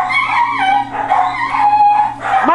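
Several dogs howl and whimper in Garry's Mod, loud and close, with wavering, overlapping cries that rise and fall continuously.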